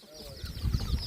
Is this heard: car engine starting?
no